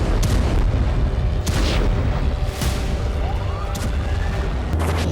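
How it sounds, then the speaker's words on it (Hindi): A heavy, rumbling blast in Kazan, Tatarstan, with continuous loud low-end noise and sharp bursts; a faint whistling tone rises midway. "फिर तातारस्तान के कजान में धमाका हुआ"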